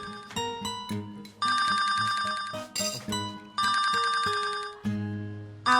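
A mobile phone rings with a loud, repeating electronic ringtone melody in bursts, close by and alone with no talk over it.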